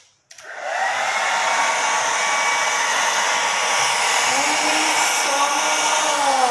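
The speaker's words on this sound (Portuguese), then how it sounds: "Vamos ligar o secador e secar aonde nós escrevemos com limão." Hair dryer switched on and blowing steadily close by to dry lemon-juice invisible writing on paper, a loud continuous whooshing whine that starts after a brief quiet moment and holds even throughout.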